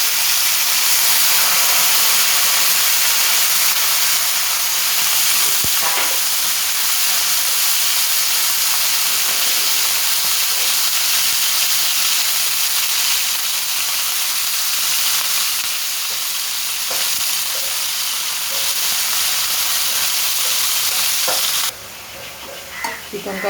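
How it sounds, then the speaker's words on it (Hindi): Chicken fries loudly in oil in a pan, giving a dense, continuous sizzle with a few sharp crackles and spoon taps, before the sound drops away abruptly near the end; no talking. "इसमें पहले चिकन को हम अच्छे से फ्राई करेंगे"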